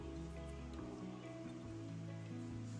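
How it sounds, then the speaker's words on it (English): Rain patters steadily on forest trees overhead during a thunderstorm, a soft continuous hiss of drops with a low sustained hum running underneath throughout. "I don't know if you can hear the rain hitting the trees above us."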